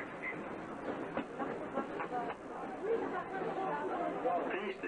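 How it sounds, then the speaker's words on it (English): Disneyland Railroad passenger coach pulled by a genuine steam locomotive, rolling with a steady rumble and faint rail clatter under continuous crowd chatter from riders. "The coach you're riding is tied to one of four genuine steam locomotives of the Disneyland Railroad."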